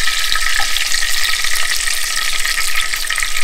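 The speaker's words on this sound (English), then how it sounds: "Cooked in bacon grease." Food frying in hot bacon grease gives a steady, close sizzle with constant crackling spatter, loud and alone with no voices over it.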